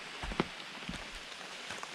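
Steady rain patters on surfaces along a mountain hiking trail, a close, even hiss dotted with a few sharper drops, with no voices present.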